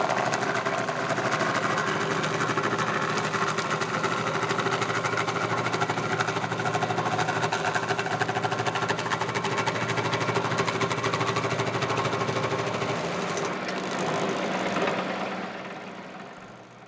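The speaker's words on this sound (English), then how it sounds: "when the stump grinder really gets a lot of pressure on it, it will push the base off to the side" A Baumalight 3P24 stump grinder mounted on a tractor chews steadily into a huge stump, a loud, continuous engine roar with rough grinding texture that holds for most of the time before easing off at the end.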